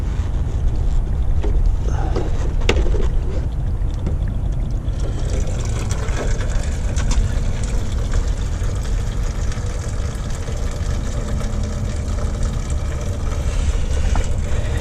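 Fuel drains steadily from a Paccar X15 truck fuel filter into a container, a continuous close pouring and trickling wash with no talk.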